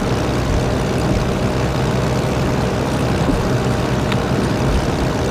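Propeller airplane engine at full throttle with full flaps during takeoff in the Prepar3d flight simulator, a steady loud unbroken roar that holds from start to finish.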